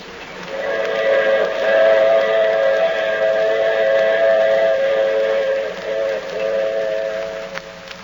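A loud, sustained train whistle holds a steady chord for several seconds over a low rumbling background, then fades toward the end.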